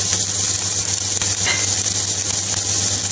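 Mince meat frying in hot oil in a pan while making Indian keema rice, giving a steady close sizzle throughout with a few faint stirring scrapes, and no one speaking.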